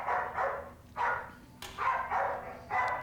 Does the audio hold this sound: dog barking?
yes